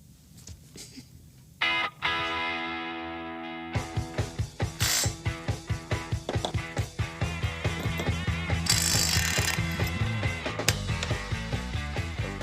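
A ratchet clicks in a fast, steady rhythm while torquing bolts on a torque converter in a Hemi-swapped Gremlin, close and clear, with a few metallic knocks and clanks before the run of clicks starts.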